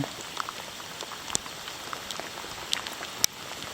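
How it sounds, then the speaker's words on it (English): Steady rain falls during a hike near a wilderness bay in the Whitsundays, a soft continuous patter with occasional sharper drips close by and no talking. "It's still raining."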